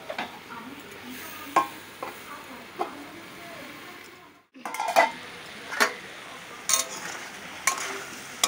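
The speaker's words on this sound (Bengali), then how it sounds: "নেড়ে চেড়ে দিয়ে" Ash gourd and soybean curry, cooked with turmeric and no other spices, is stirred in a pot: repeated sharp spoon scrapes and clinks against the metal over a low simmering sizzle, with a brief quiet gap midway.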